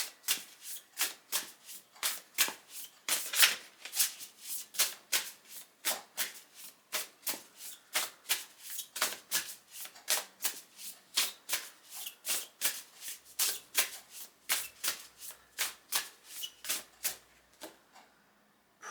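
Oracle cards being shuffled by hand, a long run of quick, evenly spaced riffling flicks close up, steady and crisp from start to finish with no talking.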